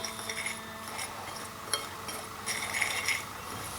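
Clinks and scrapes of a utensil stirring Chicken Ala King mixture with paprika in a pot, light and irregular, close by with no talk.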